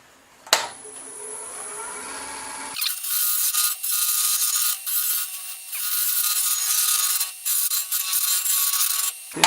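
A new hollowing tool cuts into a gnarly wood burl spinning on a lathe, giving a sharp start followed by a steady, loud, chattering scrape with brief dips as the cut varies.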